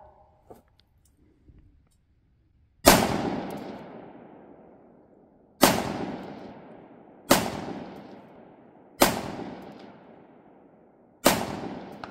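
Five loud rifle shots ring out on an outdoor range during a long-range combat shooting drill at 200 to 50 yards, each sharp crack echoing away, spaced one to three seconds apart after a quiet start.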